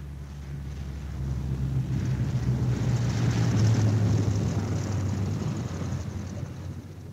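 A World War II B-17 Flying Fortress bomber comes in to land with its left inboard engine dead, a low, broad droning roar that swells as it nears and then slowly eases, with no talking.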